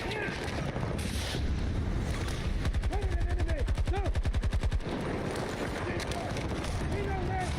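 Battlefield 2042 gunfire: a long, rapid burst of automatic fire rattles loudly in a steady rhythm, with scattered shots and explosions around it, while players talk over the action.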